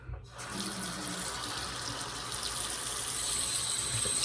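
A tap is turned on and water streams steadily into a sink, a continuous close splashing rush.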